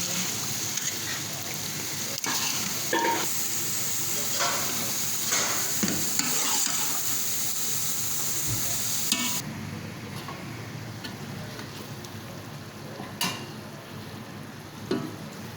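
Masala for chicken biryani fries in a pot, giving a continuous close sizzle with scattered stirring scrapes and clinks throughout.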